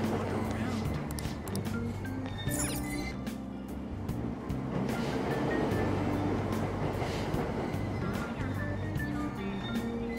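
A train ride in the video game Persona 5 Royal plays as a continuous rumble of rolling carriages with occasional clinks and rattles, steady and moderately quiet, with no one speaking over it.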